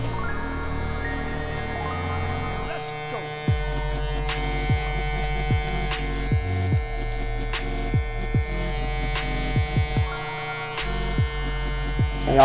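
Electric hair trimmer buzzing steadily at close range during a low-temperature fade haircut on a client with a beard, with short clicks and changes in tone as the guard or blade is adjusted; someone talks over it.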